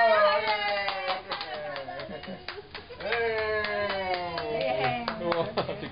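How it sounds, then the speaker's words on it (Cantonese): A child claps hands at home in a few quick, close bursts, under ongoing sung and spoken voices. "自己都拍手。"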